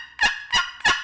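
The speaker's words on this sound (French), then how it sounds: "La femelle dindon, elle appelle viens-t'en, mon grand, la madame est prête." Three evenly spaced, loud, nasal yelps from a female turkey hen call used in hunting, each clear and alone against silence.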